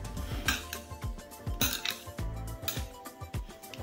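Šopska salad ingredients tossed together in a bowl, a run of repeated clinks and scrapes of utensils against the dish in an uneven rhythm, close and alone.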